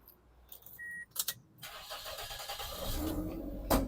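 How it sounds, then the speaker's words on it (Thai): A Toyota Altis engine cranks briefly, catches on the first try, and settles into a smooth, steady idle hum, heard close up. "รถสตาร์ททีเดียวติดนะครับผม เครื่องเดินนิ่งเรียบนะครับ"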